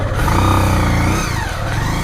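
A motorcycle engine revving while riding on a rough village road in Morang, Nepal, with a loud, close mid-pitched roar that rises and falls in pitch and holds steady throughout, with no voices.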